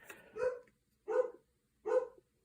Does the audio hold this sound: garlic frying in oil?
no